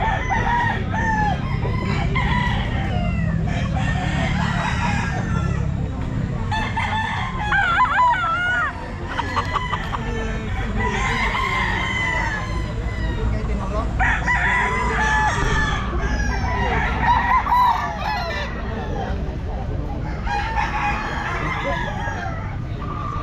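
Stag roosters crow again and again at a busy pet market in Grotto, with overlapping cock-a-doodle-doo calls and clucking from several birds, some near and some farther off, over a steady crowd murmur.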